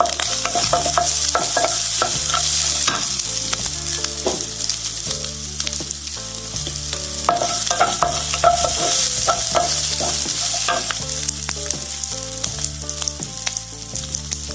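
Curry leaves and green chillies fry with onion in a pan for a sweet corn recipe, making a continuous loud sizzle broken by repeated rhythmic clinks of stirring, with no talking.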